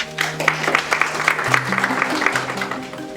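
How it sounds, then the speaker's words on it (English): A round of applause rises from the audience at a stock exchange opening bell ceremony, a steady patter of claps over low sustained tones. "Please indulge me in giving her a round of applause"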